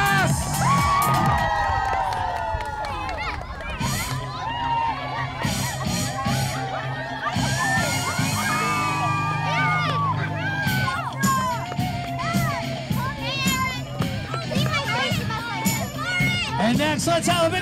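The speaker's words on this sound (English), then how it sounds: "Let's give her a big round of applause." A large crowd at an elementary school field day cheering and whooping loudly throughout, with children shouting and a continuous roar of voices; applause blends into the din.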